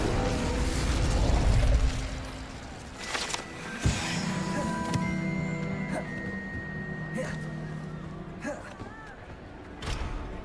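A fire spell cast in Hogwarts Legacy gives a whooshing burst and sharp pop, followed by mechanical clicks and tonal hums from the game, with some voice in the background.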